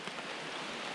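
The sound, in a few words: rain falling during a cold night trail race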